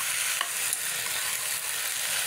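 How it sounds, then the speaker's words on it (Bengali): Vegetables with ginger garlic paste and salt being stirred in a hot pan: a steady, close hiss of frying with faint scraping touches of the spoon, continuous and with no talking. "এটাকে এখন ভালো করে মিক্স করে নেব"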